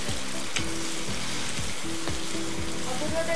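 Chopped tomato sizzles steadily in a hot pan as it is sautéed, with a constant close frying hiss and occasional soft stirring scrapes.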